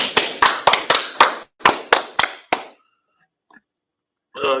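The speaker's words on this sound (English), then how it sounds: "All right, clap it up." A group at an ISUPK brotherhood class in Chicago claps hands in a sharp, rhythmic pattern of close, loud claps in two bursts, then stops; a voice begins at the end.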